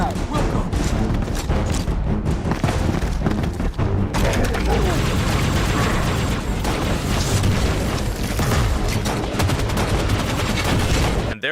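Video game combat with grenade explosions and gunfire, a dense continuous barrage of booms and rapid shots, loud throughout, with players talking over it.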